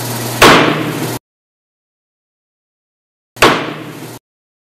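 Two sharp wooden knocks, each a loud crack struck on a piece of wood to imitate a gunshot, separated by a couple of seconds of silence, each with a short ringing decay.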